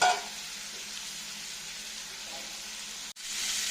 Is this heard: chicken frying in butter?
yes